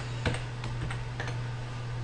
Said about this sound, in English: So you go ahead and type in your commands.